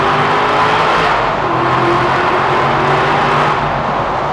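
A car engine drones loud and steady while driving toward a tunnel, with a continuous throaty roar and slight shifts in pitch, and no speech.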